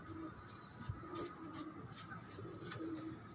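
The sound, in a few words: pigeon cooing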